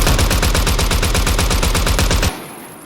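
Rapid automatic gunfire from a rifle in Zero Hour fired while the shooter is out of stamina: a steady, evenly spaced stream of loud, close shots for about two seconds, then cutting off into a fading tail.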